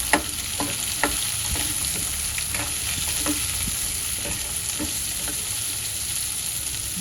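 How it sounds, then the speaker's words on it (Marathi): Cluster beans tossed into a pan of garlic frying in oil, giving a steady close sizzle with scattered stirring scrapes and small pops throughout, no talking. "इथे लसूण लालसर झालाय, छान सुगंध सुटला इथे. आता यावर आपण शेंगा घालूया."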